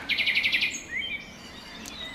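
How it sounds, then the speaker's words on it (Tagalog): A bird gives a quick run of about six bright chirps, then a few thinner whistled calls follow, close and clear over a quiet background. "mapapansin nyo yung sound ng mga chirping ng mga ibon"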